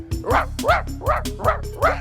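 A human voice imitates a dog barking, five quick woofs in a bouncy rhythm, close and fairly loud.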